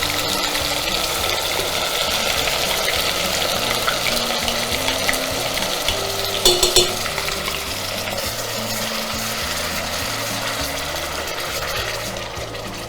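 Onion paste hits a hot pan for a Bengali raw-mango pulao and sesame chicken dish, giving a steady hiss with occasional stirring scrapes and a brief clatter midway, no one talking.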